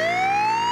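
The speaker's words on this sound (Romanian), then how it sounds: "Chemați o ambulanță." An ambulance siren wails steadily and loudly as a single rising tone, short and alone with no other sounds.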